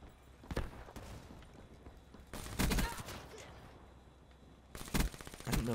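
Gunfire from the video game Black Ops 3, Skyjacked multiplayer map, comes in three loud, separate bursts of rapid shots with quieter game noise between them.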